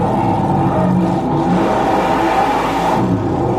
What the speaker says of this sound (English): a 511 cubic inch aluminum Chevrolet Rodeck racing engine powering the wild